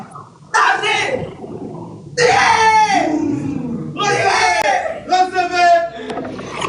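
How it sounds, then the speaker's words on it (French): A contest-final audience yells and screams in loud, excited bursts for a contestant from Mali, with short pauses between each surge of cheering voices. "On applaudit pour elle."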